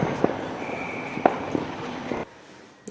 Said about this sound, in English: that was some more of the fireworks stuff